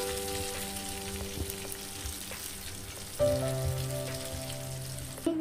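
A large fish fries in hot oil with a continuous, dense crackling sizzle heard up close, swelling louder partway through as the oil spits, with no talk.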